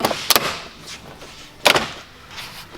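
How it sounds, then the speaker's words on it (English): Plastic door trim strip is pried upward out of a Chevy Colorado or GMC Canyon truck door, giving two sharp cracking snaps about a second apart, separated by quieter handling noise. "it's basically an upwards motion to get the trim strip up and out of the door"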